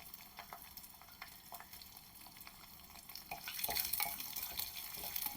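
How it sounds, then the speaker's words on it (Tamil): About ten small shallots sautéing in a pan for a village-style dried anchovy curry, a soft crackle with light stirring scrapes that grows louder and hissier toward the end. "அதனால தான் நான் ஒரு 10 சின்ன வெங்காயம் போட்டு அதை கொஞ்சம் நல்லா வதக்கின்னு"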